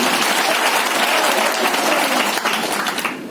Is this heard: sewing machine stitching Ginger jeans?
no